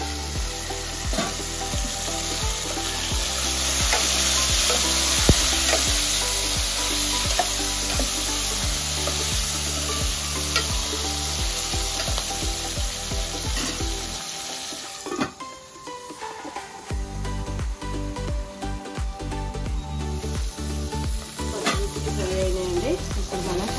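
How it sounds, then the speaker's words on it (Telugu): Green chillies sizzling steadily in hot oil, a loud continuous fry with occasional scraping stirs; the sizzle drops briefly partway through, then resumes a little quieter, as if a lid is set on the pan. "కొద్దిసేపు ఆయిల్లో ఈ పచ్చిమిర్చి ఫ్రై కావాలి"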